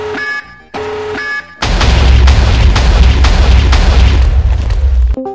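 A nuke explosion in the video game Roblox Blox Fruits, a massive booming blast that bursts in after a short electronic tone and rumbles loudly for several seconds, with repeated crackling surges.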